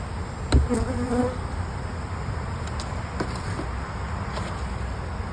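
Honey bees swarm around an open hive, a steady close buzzing drone that holds throughout, with a brief knock of equipment near the start.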